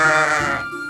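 Sheep bleat in one drawn-out, wavering call, loud and close, trailing off to quiet near the end.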